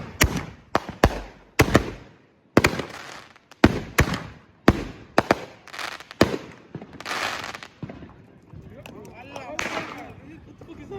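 Small bag fireworks set off during a Fourth of July celebration crackle and pop in a rapid irregular string of loud nearby bangs, then fade into fizzing as people talk.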